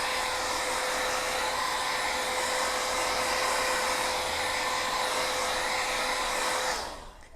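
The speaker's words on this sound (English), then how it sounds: "I am going to give that a really quick dry with my hairdryer" A hair dryer blows loudly and steadily close by with a constant whine, then switches off near the end as the noise drops away.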